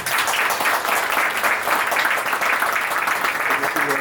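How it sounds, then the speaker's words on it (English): A panel-discussion audience gives a sustained round of applause for a guest, dense and steady throughout, with voices mixed in underneath. "if you can give a round of applause to Dr."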